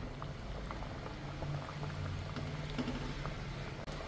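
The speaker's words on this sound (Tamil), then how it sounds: "நல்லா கொதிச்சிருச்சு" A pot of drumstick-leaf curry with toor dal and ground coconut bubbles steadily at a close, vigorous boil, with soft popping and gurgling and no voices.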